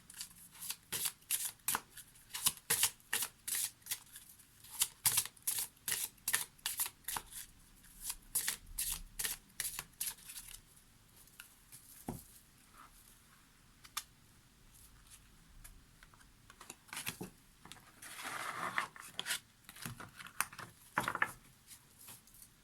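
Oracle cards are shuffled in quick, crisp riffling bursts, close and fairly quiet, then slower rustles and a few soft handling sounds as a card is drawn.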